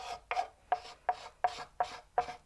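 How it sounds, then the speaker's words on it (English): Paint is scraped onto a craft piece for an Easter centerpiece in a steady series of seven short, rasping strokes, evenly spaced and close, with no voices. "I'm doing the same exact technique, just scraping the paint on"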